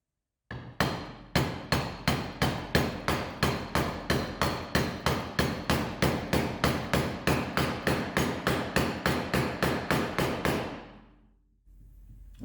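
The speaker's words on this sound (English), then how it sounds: "I just put the old seal on top of the socket and using that to hammer it in" A hammer drives a transaxle seal into a 1970 Porsche 911T, using the old seal and a socket as a driver, about twenty-five sharp metallic blows in a fast, even rhythm, close and alone.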